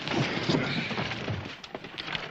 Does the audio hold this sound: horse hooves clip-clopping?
yes